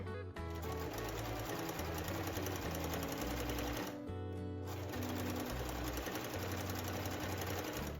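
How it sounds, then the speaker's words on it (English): Sewing machine stitching a long dress seam, a steady close whirring run that stops briefly midway, then resumes for several more seconds without talk. "I'm just gonna stitch as far as I can."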